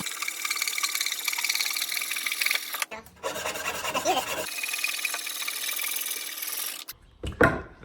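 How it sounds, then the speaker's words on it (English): Hand pull saw cutting a wooden board for a keepsake box, a close, steady rasping stroke broken by a short pause midway and a clatter at the end. "I'm going to cut my board out here using a pole saw"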